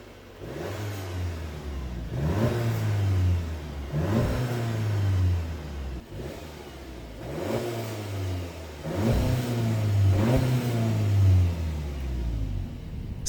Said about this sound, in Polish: Najpierw dźwięk z rury wdechowej.